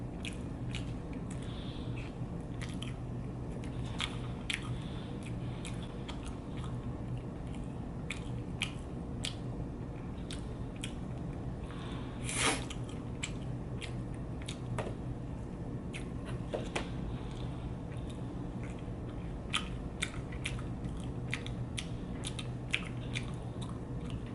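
Close chewing and biting on the last slice of a Pizza Hut double fondue shrimp pizza, with soft wet squishes and small crunches repeating steadily over a low background hum, no talk.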